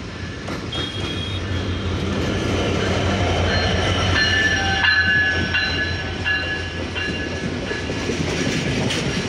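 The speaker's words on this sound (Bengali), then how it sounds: "6607 লোকোমোটিভ নিয়ে আসছে, দেখতেছেন আমরা।" Train hauled by locomotive 6607 arriving at Saidpur railway station, a loud continuous rumble of wagons with clattering wheels and faint horn-like tones, close by throughout.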